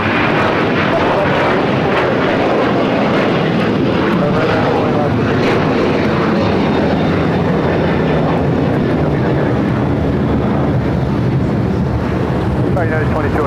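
A United Airlines jet takes off from LAX bound for Tampa, its engines producing a loud, steady broadband roar with wind buffeting the microphone, and voices are heard over it.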